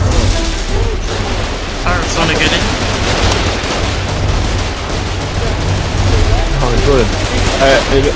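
Dense, continuous gunfire and explosions in the online war game Foxhole, with rapid bursts layered over booming blasts throughout, loud and close, while players talk over the battle noise.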